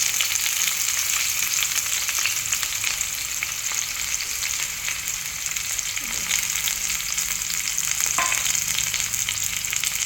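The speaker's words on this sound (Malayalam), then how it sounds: "വെളിച്ചെണ്ണ നല്ലോണം ചൂടായിട്ടുണ്ട് നമുക്കിത് ഇട്ട് കൊടുക്കാം ഉള്ളി വെളുത്തുള്ളി കറിവേപ്പില" Shallots, garlic and curry leaves hit hot coconut oil in a pan, making a loud, continuous frying sizzle with occasional stirring clatter, close and unbroken for the whole stretch.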